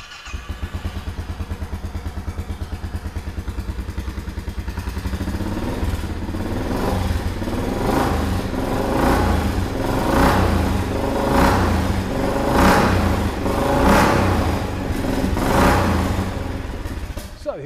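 A Royal Enfield Bullet 500 Trials single-cylinder motorcycle idles with a steady rapid thump, then revs repeatedly in rising and falling surges, loud and close.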